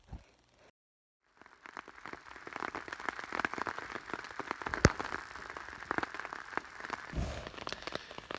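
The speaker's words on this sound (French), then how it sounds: "Bon ce matin il pleut" Steady morning rain patters on a surface in the Yukon wilderness, with scattered drips and crackles, after a brief quiet moment at the start.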